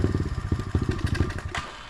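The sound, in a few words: SSR 125 dirt bike engine running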